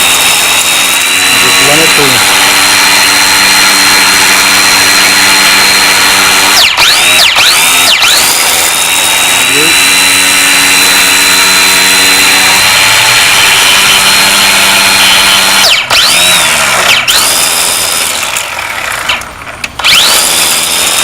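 A Black & Decker 20V Max cordless string trimmer in edger mode whines loudly and steadily up close along a patio, its motor pitch dipping briefly several times as the line bogs down.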